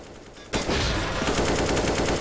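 Rapid automatic gunfire sprays through a wall in CS:GO on the Cache map, a dense sustained burst of shots that starts abruptly after a quiet moment and keeps hammering steadily, loud and close.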